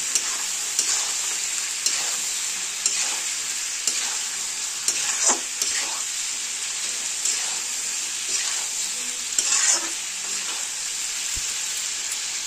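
Chicken pieces and potato sautéing with chicken masala powder and a little Kashmiri chilli, a bright continuous sizzle with rhythmic scraping stirs every second or so, close and fairly loud.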